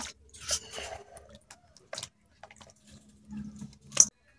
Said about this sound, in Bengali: আর এখন লবণ দিয়ে ধুয়ে নিচ্ছি।